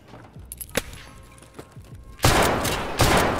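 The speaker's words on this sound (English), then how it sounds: "Why are you shooting me?" Gunfire in the video game Escape from Tarkov starts as scattered single shots, then becomes two loud, dense bursts of rapid fire close by.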